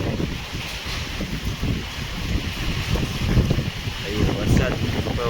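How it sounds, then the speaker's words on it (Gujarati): Strong wind gusting hard in the middle of the night at around 60-70 speed, a steady roaring rush with buffeting microphone noise that swells and eases throughout. "60-70ની સ્પીડે પવન ફેંકાઈ રહ્યો છે"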